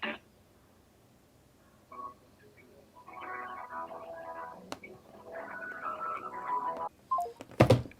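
A phone keypad tone sounds once, short and sharp, near the end of a scam phone call, after a stretch of recorded voice prompts.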